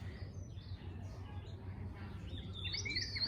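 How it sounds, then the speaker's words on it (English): Birds chirping in the morning in Rwanda, a cluster of short high tweets and calls over a steady low background rumble, busier and brighter toward the end, with no talking. "these loud ass birds"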